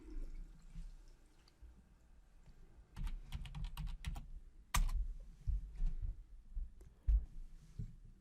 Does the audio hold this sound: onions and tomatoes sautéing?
no